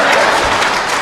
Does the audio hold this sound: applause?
yes